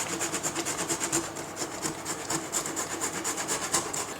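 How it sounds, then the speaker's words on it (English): Fresh whole nutmeg is rubbed over a grater in quick, steady back-and-forth strokes, about four per second, close and moderately loud, with no voices. "I'm also going to put in a good grating of freshly grated nutmeg"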